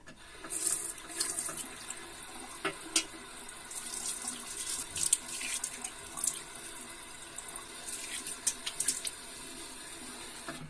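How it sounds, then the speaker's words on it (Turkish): A bathroom tap runs steadily into a sink while someone washes their face after shaving, with a constant close hiss of flowing water and light irregular splashes and slaps on top. "Neyse dostlar bir yüzümü yıkayacağım"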